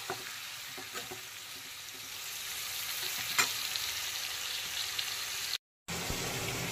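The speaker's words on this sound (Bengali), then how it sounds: "এখন বেশ কিছুক্ষণ সময় নিয়ে পুরো সমস্ত মশলাকে খুব ভালো করে ভেজে নেব" Spice paste frying in a pan for a Bengali pomfret fish dish cooked with tea, a steady close sizzle with occasional stirring scrapes, broken by a brief gap, no voices.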